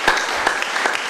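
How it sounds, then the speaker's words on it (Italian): An audience at an international guitar festival applauds to welcome a flamenco guitarist, with a brief burst of dense clapping marked by a few sharper individual claps. "lo accogliamo con un grossissimo applauso, Juan Lorenzo."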